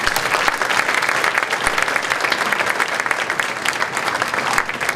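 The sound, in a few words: audience applause for the board members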